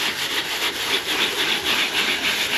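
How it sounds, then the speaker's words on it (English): Rhythmic back-and-forth rasping of hand sanding paint with sanding pads, close and steady, each stroke a short scratchy swish repeating evenly, with no talking. "I'm going to give it a sand, just trying to make it fairly smooth at the edges"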